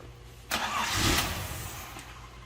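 A 1979 Datsun 280ZX that has sat for a long time starts up with a sudden crank and catch, rising briefly in loudness before settling to a faint steady idle, heard close with no talking.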